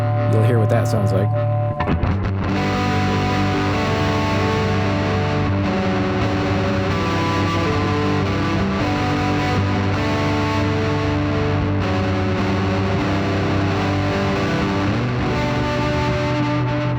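An electric guitar plays through a Quad Cortex with a plush reverb effect engaged, giving loud, sustained distorted chords with a lingering wash of ambience throughout.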